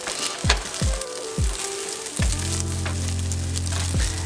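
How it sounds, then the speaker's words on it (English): A tablespoon of garlic sautés in a hot pan for fried rice, giving a steady close sizzle and crackle. A series of dull thuds and knocks punctuates it, with no talking. "now we want to saute the garlic in"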